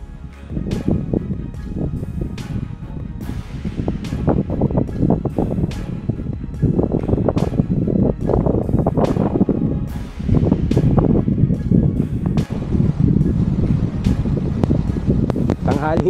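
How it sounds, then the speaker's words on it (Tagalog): Strong gusty wind at a beach campsite in Atanacia Beach Park buffets a tarp and the microphone, a loud, continuous rumbling roar with sharp flapping bursts throughout. "Lakas pa rin ang hangin mga ka-adventures oh. Presko, pero nabubugbog yung tarp natin."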